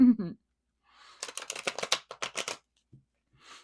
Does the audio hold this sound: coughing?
no